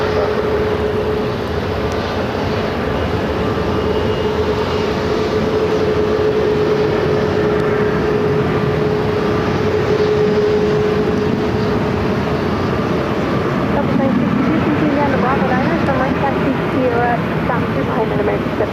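An airplane landing at Phoenix airport, a steady, loud broadband roar of engines that holds for the whole stretch and swells slightly near the end, with faint voices in the background.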